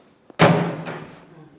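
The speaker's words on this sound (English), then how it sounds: "But now you see our door can now close properly." A microwave oven door, newly repaired, swings shut with one loud close slam and a short rattling thud that fades out over about a second, after a faint tap.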